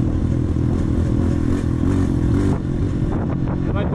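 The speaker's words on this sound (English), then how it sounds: "My bike can breathe so much better now." A dirt bike engine revs loudly and continuously while riding at Duck Creek, close and dense with clattering rattles over the throbbing drone, and a brief dip in the middle before it picks up again.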